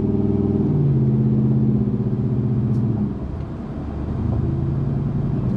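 A 2003 Ram 1500 pickup pulls away from a red light with the air conditioning running, its engine giving a steady, close low rumble that eases slightly partway through, with no talking.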